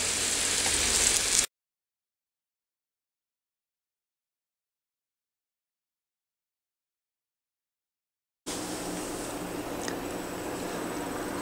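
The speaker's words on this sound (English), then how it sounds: "now fry this paratha in your ghee or butter you can say until it is golden brown from two sides" Potato and mint paratha frying in ghee or butter in a pan, a steady soft sizzle heard alone for a moment, then cutting to silence before the frying hiss returns at the same level.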